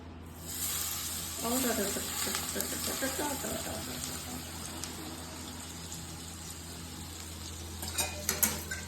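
Spices tipped into smoking-hot oil while preparing a pickle, giving a steady, close hiss of sizzling with scattered spits and crackles; faint voice-like sounds briefly surface early on.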